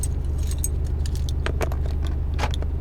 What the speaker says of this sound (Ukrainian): Замкнули машину, центральний замок спрацював.